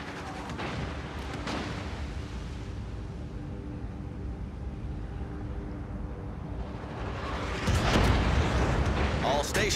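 Naval guns firing at a target in the game World of Warships: Legends, heard as a steady rumbling barrage of booms, with heavier blasts near the end.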